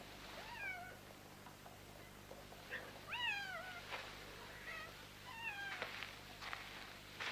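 A small cat meows several times in short, rising-and-falling cries, some closely spaced in pairs, fairly faint and heard against a quiet low hum.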